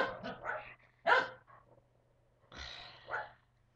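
A dog barks in a few short, sharp bursts, some single and some doubled, close but fairly quiet, with brief pauses between and no talk over them.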